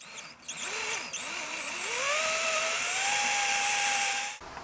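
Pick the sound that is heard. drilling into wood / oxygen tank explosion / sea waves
drilling into wood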